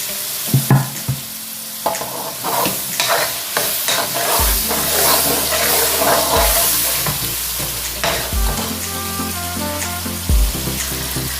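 Tomatoes sizzling and being stirred in a pan of spicy chana dal tadka with water added, the loud scraping and clatter of a spoon against the pan over a continuous close frying hiss, with steady low bubbling.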